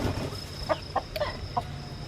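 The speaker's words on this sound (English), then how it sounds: "She's a very sweet chicken" A pet hen clucks in a few short, separate calls over a steady low background hum, fairly close and moderately loud.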